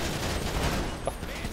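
Gunfire in Grand Theft Auto rattles as a continuous dense burst of shots through the whole stretch, mixed with game noise and a voice speaking over it.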